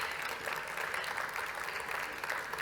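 A round of applause from a conference audience at a ROS Industrial robotics event, steady dense clapping at a moderate distance lasting a few seconds.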